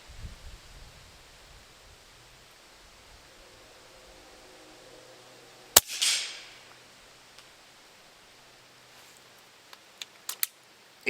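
A single sharp report from a .357 firing a lead slug cracks out mid-clip against a quiet background, followed by a short decay and a few faint clicks afterward.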